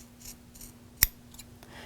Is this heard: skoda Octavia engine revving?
no